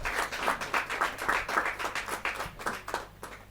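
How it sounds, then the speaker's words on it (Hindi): Audience clapping at a Hindi kavi sammelan poetry gathering, a steady patter of many hands that stays fairly even and moderately loud for a few seconds, with a low background hum underneath. "जोरदार ताली के साथ।"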